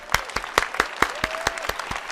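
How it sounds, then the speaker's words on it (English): Sharp hand claps in a steady, quick rhythm, evenly spaced and fairly close, like a small group clapping together. "Let's give them all a round of applause."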